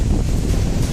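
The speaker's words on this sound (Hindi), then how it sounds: "तूफान की वजह से इतना तेज हवाएं चल रही थी" Strong storm wind in Ratnagiri roars loudly and steadily, buffeting the microphone with dense, continuous rumble and hiss, with no voices.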